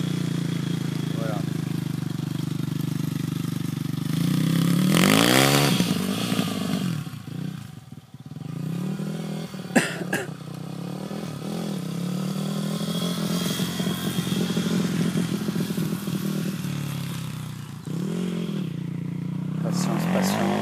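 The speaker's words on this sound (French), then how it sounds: "il y a un passage de moto" A motorcycle passes outdoors, its engine roar swelling and fading over about twenty seconds, loud and continuous, with a person speaking briefly over it.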